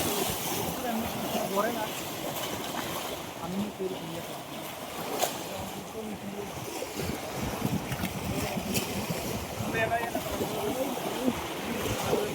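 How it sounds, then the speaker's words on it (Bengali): High tide waves wash onto Sitakunda sea beach in a steady, broad roar of surf with wind noise, while people talk and call out faintly in the background. "জোয়ার চলে আসছে।"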